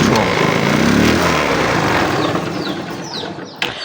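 A Hero Honda CBZ motorcycle engine running close by, a loud, dense, steady mechanical whirr that holds without a break, easing slightly toward the end.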